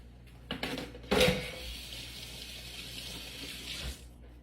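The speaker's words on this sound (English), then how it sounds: "I'm going to wash my hands" Kitchen sink tap runs steadily as hands are washed during crockpot chicken fajita prep, a continuous close hiss of flowing water with a brief splash at the start.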